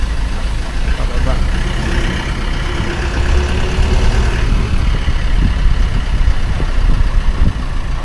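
A truck engine rumbles steadily at close range while passengers ride aboard, its low drone continuous under people talking.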